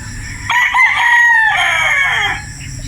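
A rooster crows once on a Batangas game farm, loud and close, a long drawn-out call that rises and then trails off over a low background.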